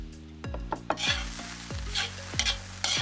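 Onion and carrot stirred in a sizzling frying pan: a steady hiss of frying with several distinct scraping stir strokes at irregular intervals, close and clear, no talk.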